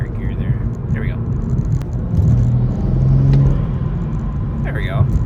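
A BMW M240 engine pulls through a higher gear on a late-night drive, a low, steady cabin rumble that swells slightly in the middle, with a voice speaking over it.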